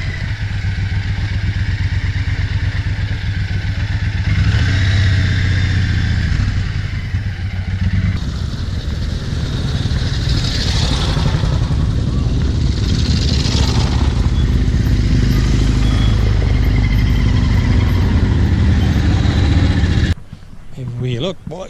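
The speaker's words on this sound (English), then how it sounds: "Everywhere you look, bikes, bikes, and more bikes." Motorcycles at the Burt Munro Challenge rally, a steady loud engine rumble and idling under crowd chatter for about twenty seconds, with bikes passing and revving in the background.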